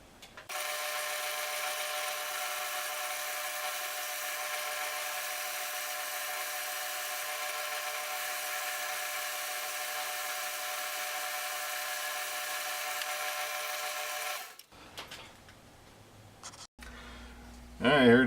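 A South Bend Model A lathe parting off metal gives a steady, harmonic-rich machining whine for about fourteen seconds, then stops abruptly, followed by quieter shop noises and a brief clatter at the end.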